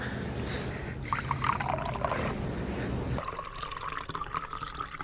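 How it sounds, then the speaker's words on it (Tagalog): Cold water pours and splashes in a steady stream over a man with heat stroke, then shifts to a lighter trickling flow, close by with no talking. "bubuhusan lang kita ng malamig na tubig ha"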